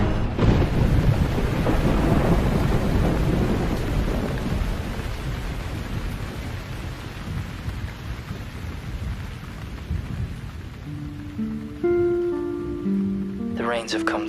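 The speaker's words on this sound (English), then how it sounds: "this is a wicked storm that's about to come through here." A heavy tropical thunderstorm in Colombia, with rumbling thunder and steady rain loud at first and easing to a constant wash, while a voice talks and some music enters near the end.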